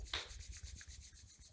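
Palms rub briskly together with a soft, steady dry swishing, close and quiet, with no talking.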